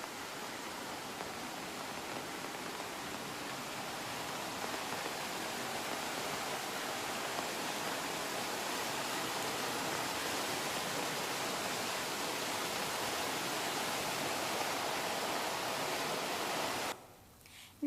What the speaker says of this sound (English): This is water coming down from our driveway and joining the river.